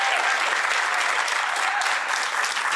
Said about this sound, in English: let's have a huge hand of applause for the panel